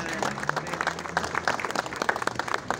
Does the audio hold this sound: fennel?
no